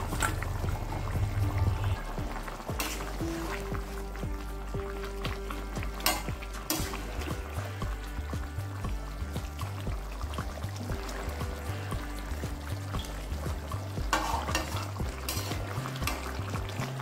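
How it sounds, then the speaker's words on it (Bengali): Fish pieces going into a pan of sizzling cauliflower curry, with steady frying hiss, stirring and scraping, and a few sharper clatters from the pan throughout. "এবার দিয়ে দিচ্ছি মাছগুলোকে"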